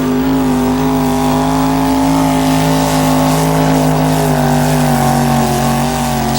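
A 1986 Chevrolet four-wheel-drive truck in the 6,200-pound class roars at a truck-pulling event, its engine held at high, steady revs, loud and close, with no voices over it.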